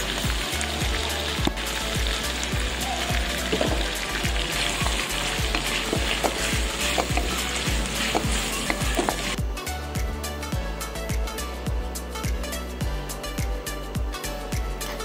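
Potatoes sizzle and crackle loudly in a hot pan of oil, with dense popping throughout and occasional tapping of a utensil. The frying stays close and steady with no talk.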